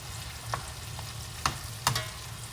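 Shrimp fry in a pan with chipotle, tequila and lime, a steady close sizzle broken by a few sharp scrapes and clacks as they are stirred and turned.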